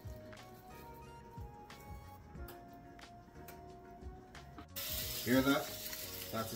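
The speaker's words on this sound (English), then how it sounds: "That's the sound you want to hear, that sizzling sound." Steady crackling sizzle of Jamaican jerk meatballs frying in oil, with clinks and handling sounds, growing louder and more bubbly toward the end.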